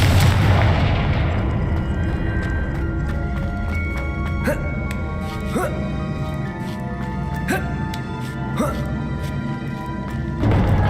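Confringo blasting spell explosions in Hogwarts Legacy: a loud opening blast followed by a series of sharp, ringing impacts and thuds at irregular intervals, over a dense rumbling game backdrop.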